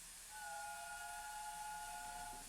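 The steam whistle of a Flying Scotsman locomotive in the Train Sim Classic game sounds one steady, sustained two-tone blast of about two seconds, faint over a constant steam hiss.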